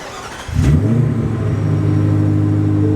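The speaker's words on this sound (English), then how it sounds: "You guys want to hear the engine?" Ford F-150 Raptor R truck engine starting up and settling into a loud, deep, steady rumble close by.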